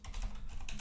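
Computer keyboard typing while entering a variable name in an Unreal Engine 4 tutorial, a steady run of soft, close key clicks filling the short moment with no voice.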